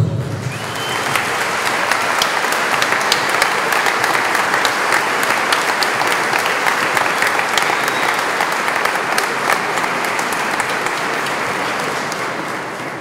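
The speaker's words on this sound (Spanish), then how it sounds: "Les recibimos con un fuerte aplauso." A large audience applauding to welcome a symphony orchestra at a concert, loud, sustained, even clapping with occasional sharper claps, holding steady for the full stretch with no talk.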